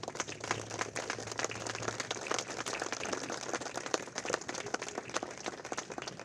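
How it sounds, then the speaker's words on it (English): Applause from an audience at an animal shelter ribbon cutting, a dense steady patter of many clapping hands lasting throughout, moderately close and without speech over it. "I hope that you all give him a tremendous round of applause"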